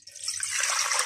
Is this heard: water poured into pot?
yes